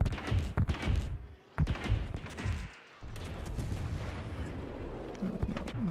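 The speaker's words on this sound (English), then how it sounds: "Let's see if AP shells will do some more here" Naval gunfire in World of Warships: Legends: heavy booming salvos of AP shells from warship turrets, several loud thudding blasts over the first three seconds, then a dense sustained rumble of battle noise.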